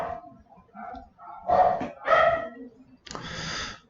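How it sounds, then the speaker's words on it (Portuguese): A neighbour's small dog barks in short, sharp bursts a few times in the background, fairly near but not loud, with a quiet room around it. "Aqui vocês vão escutar até o cachorrinho do vizinho latindo."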